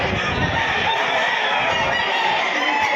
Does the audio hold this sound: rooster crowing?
yes